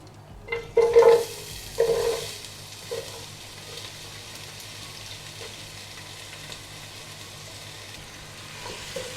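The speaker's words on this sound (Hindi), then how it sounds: "सबसे पहले पैन में हम डालेंगे ऑयल। साथ ही हम इसमें डाल देंगे प्याज" Steady frying sizzle of onions in hot oil in a pan, with a few louder clatters and stirring scrapes near the start, then a constant crackling hiss.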